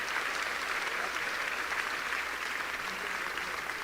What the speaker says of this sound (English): So a little round of applause for the team that put it all together.